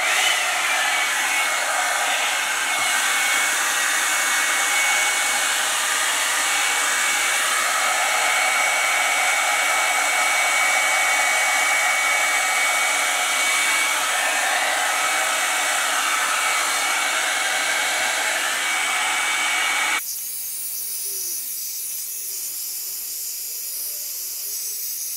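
A Revlon One Step Dryer and Volumiser dries hair with a loud, steady hiss of blowing air that runs for about twenty seconds, then cuts off, leaving quieter room noise.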